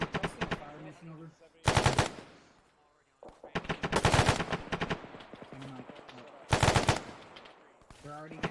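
Heavy simulated gunfire and artillery in ARMA 3: loud, dense bursts of automatic fire and booming impacts arrive in several clusters, with short quieter gaps between them.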